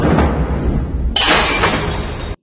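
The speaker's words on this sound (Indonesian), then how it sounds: "Lempar gelas doang make senyum segala." A drinking glass is thrown in a kitchen and shatters loudly, a sudden bright crash of breaking glass following a rumbling lead-in, with the shards ringing briefly before cutting off.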